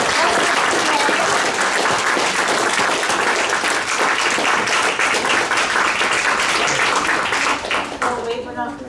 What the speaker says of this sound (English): Let's have another round of applause for all of our contestants.